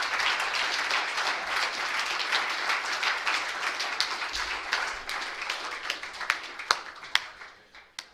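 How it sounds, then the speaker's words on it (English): Applause from an audience at a recovery meeting after a speaker's talk: dense, steady clapping that thins into scattered individual claps toward the end. "Let's give another big round of applause for our speaker tonight"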